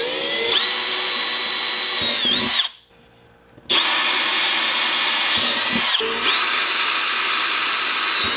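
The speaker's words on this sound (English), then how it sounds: "using the same 5/16 drill bit, we're going to go ahead and drill these holes out" An electric drill fitted with a 5/16 bit bores holes for a mobile detail cart, whining loudly and steadily close by, cutting out for about a second midway, then starting up again and running on.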